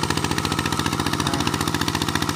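An 11 hp walk-behind tractor engine ploughing soil chugs in a fast, even, pulsing rhythm, close and steady throughout with no voices.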